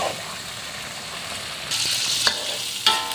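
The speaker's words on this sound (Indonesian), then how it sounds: "Ini guys, kita aduk cumi sambal hijaunya guys." Squid in green chili sambal stirred in a hot pan, a continuous frying sizzle broken by sharp scraping clacks of the utensil and louder bursts as the mixture is turned, close and without talk.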